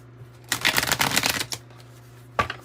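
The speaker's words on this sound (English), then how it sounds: "we'll shuffle this 108 deck" A tarot card deck is shuffled: one brisk riffle lasting about a second, then a short snap of cards, close and alone.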